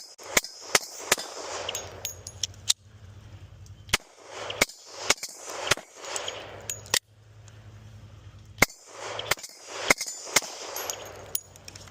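A custom airsoft Glock 20 build with an FRT trigger firing in rapid strings. Sharp, loud, close cracks come in fast bursts with a mechanical clatter between them, separated by brief pauses, and no voices are heard.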